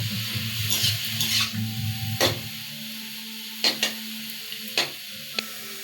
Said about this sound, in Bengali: এবার সব গাজরটা দেওয়ার পর একটু ভালো করে ঘিয়ের সঙ্গে মিশিয়ে দেব।